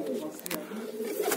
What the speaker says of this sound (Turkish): Bayağı güzel kuşlar var burada.